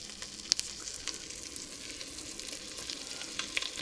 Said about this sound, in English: It's kind of sizzling now, so I'll go ahead and put the next one in.